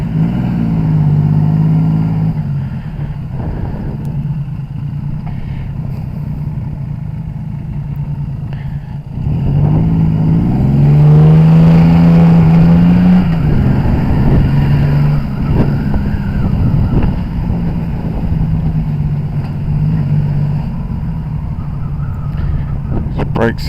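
A Yamaha XS750SE Classic motorcycle's engine drones steadily on its first road test, then revs up loudly midway before settling back to a steady rumble, with wind noise and occasional talk on top.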